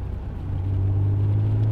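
A Vauxhall Cavalier GSi 4x4 fitted with a 3.0 V6 police-car engine pulls up a steep hill, its deep engine drone building into a loud, steady, close-up hum.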